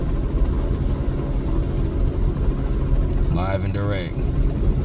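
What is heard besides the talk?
helicopter taking off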